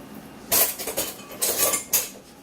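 Small spoon handled among dishes and utensils, giving several sharp clinks and rattles in quick bursts, close and moderately loud, with no talking.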